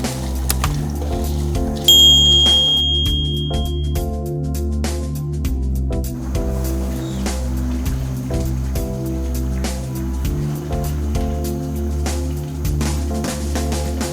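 Half a kilo of soaked rice goes into a pot of boiling water for chicken white pulao, making a steady wet bubbling and splashing over a constant low hum, with no speech.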